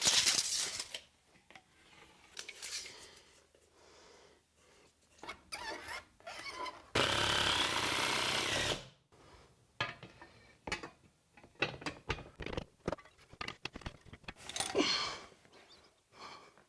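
A power tool drives 5/16 by 2-inch lag bolts through a crossbar into wall studs, with one sustained loud burst of driving in the middle among scattered clicks, clatter and handling noises.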